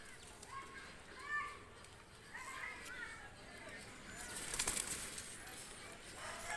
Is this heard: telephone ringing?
no